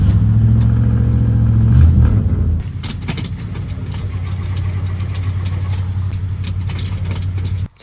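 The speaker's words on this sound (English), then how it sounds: "I managed to get the engine to turn over" A Chevy big-block 454 engine cranks with a loud, labored churning for a couple of seconds, then gives way to a lower steady rumble with scattered metallic clinks.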